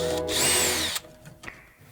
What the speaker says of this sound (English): First, we're gonna remove the hose clamp, and I've got my 5/16 driver to do that.